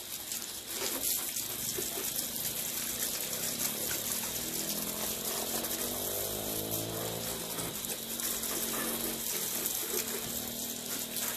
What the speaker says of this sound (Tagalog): Kasi ito mahina lang pressure ng tubig.